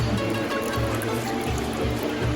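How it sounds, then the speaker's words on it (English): Water trickles and pours steadily while corn pulp is strained for making corn lab and dukunu, a close, continuous liquid splashing and dribbling with no speech over it. "So I'm going to continue adding water to this and straining it"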